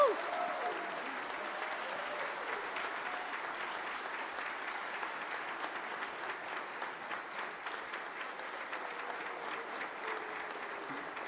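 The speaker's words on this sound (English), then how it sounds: "let's give a huge round of applause to the 2026 Iconic Restaurant of the Year, Gene and Georgetti" A crowd at the Banchet Culinary Awards in Chicago gives sustained applause as an iconic restaurant is honored. Dense clapping from many hands holds steady for several seconds, then thins slightly toward the end.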